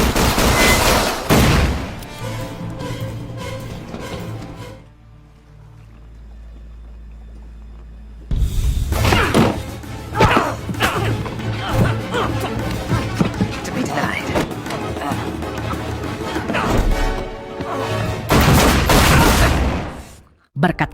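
Loud gunfire rattles in dense bursts, breaking off into a few seconds of low hum before erupting again in sustained volleys.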